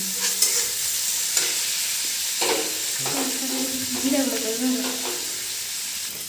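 Ginger garlic paste sizzles and fries in a pan for Odia Ghanta Tarkari, a steady close hiss with occasional stirring scrapes and light clinks, no talking.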